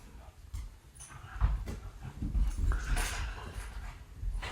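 A dog scuffles and growls playfully, with mouthy snuffling, soft whimpers and thumps close by, a busy jumble of rough play noise.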